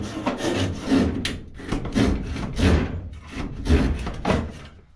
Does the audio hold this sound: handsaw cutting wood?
yes